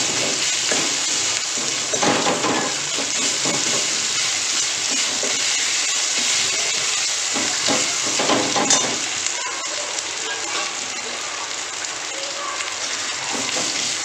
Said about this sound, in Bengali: লঙ্কা গুঁড়ো, আদার সাথে এটাকে কষে নিচ্ছে।